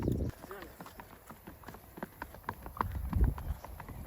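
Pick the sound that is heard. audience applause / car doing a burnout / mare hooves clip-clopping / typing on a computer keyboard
mare hooves clip-clopping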